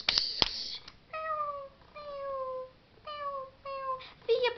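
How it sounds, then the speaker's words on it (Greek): Series of drawn-out meows from a cat in a scared-girl scene, about five clear calls with rising-falling harmonics, close and fairly loud, broken by short gaps and a sharp knock at the start. "Παλιόγατα, μιου"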